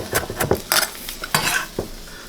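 Salad with a small green tomato being tossed in a bowl, utensils clacking and scraping against the dish in several quick bursts, close and fairly loud with no talking.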